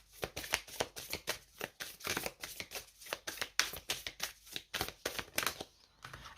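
Tarot cards riffled and drawn by hand in a quiet room, a steady series of crisp papery flicks and slaps repeating every fraction of a second, close and fairly soft, with no talking.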